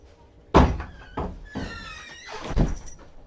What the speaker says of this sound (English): Hello, Flipper Boy. Thank you for knocking.